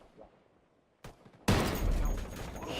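Enemy gunfire in the tactical shooter Ghost Recon Wildlands, Ghost War 2 vs 2 mode: a quiet lull, a brief burst of shots, then a sustained loud fusillade of rapid gunfire that fills the rest of the moment.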